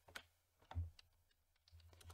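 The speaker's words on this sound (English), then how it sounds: "We push C on the keyboard" Keys clicking on a computer keyboard in a quiet room, a few scattered presses with one heavier thump, close and fairly faint.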